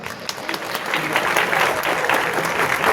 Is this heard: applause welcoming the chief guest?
yes